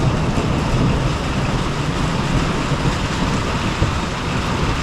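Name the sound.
heavy rain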